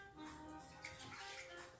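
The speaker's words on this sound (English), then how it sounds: "we're gonna go ahead and pour the chicken broth" Chicken broth pours into a cooking pot as a continuous, faint liquid splashing and gurgling for a couple of seconds, with no talking.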